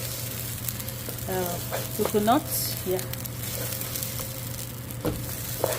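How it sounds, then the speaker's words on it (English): Steady sizzling of rice toasting in a hot pan for coconut rice, with occasional stirring scrapes, and a voice speaking briefly over it. "I'm making coconut rice, but I'm toasting it first"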